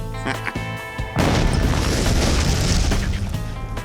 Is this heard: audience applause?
no